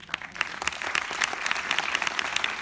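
A film festival audience claps steadily at the close of a post-screening Q&A with a film crew. The applause is dense and continuous, with sharp individual claps, and it carries on without talk for under three seconds.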